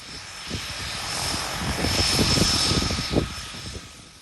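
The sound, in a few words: propeller aircraft engines running as blade pitch adjusts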